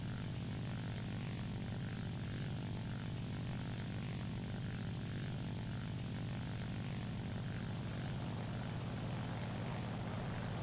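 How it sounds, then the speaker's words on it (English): A Japanese Ki-44-II Hei Shoki fighter's propeller engine drones steadily and loudly throughout a War Thunder air battle, a continuous low roar with no voices. "I hear his engine, so he's quite close."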